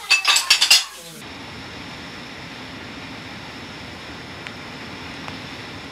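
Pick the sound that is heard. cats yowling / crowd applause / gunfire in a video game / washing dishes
washing dishes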